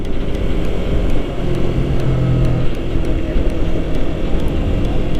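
A 2020 Yamaha YZF-R3 motorcycle accelerates on a road, a loud continuous engine drone mixed with heavy wind rush from the riding perspective.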